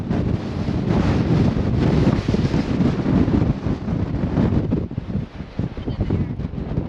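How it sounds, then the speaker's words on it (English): Strong wind buffets the microphone on the summit of Wheeler Peak, New Mexico's high point, with heavy rumbling gusts that surge and ease, close and loud. "Very, very windy up here."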